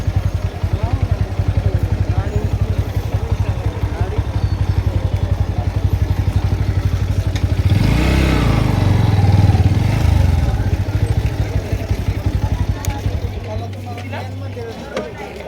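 A motorbike engine runs steadily and loudly nearby with a rapid putter and clatter, a roar swelling midway as it revs, while people talk in the background.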